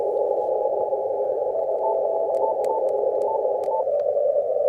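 A weak CW Morse signal on the 15 m ham band, faint short beeping keyed tones buried in steady loud radio hiss through a narrow filter, with no voice.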